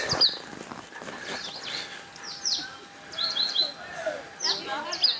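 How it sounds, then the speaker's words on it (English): Several birds chirp and tweet in short bursts in trees near the St Lucia Estuary, South Africa, fairly close, with rustling outdoor background. "Some beautiful birds frolicking here in the trees."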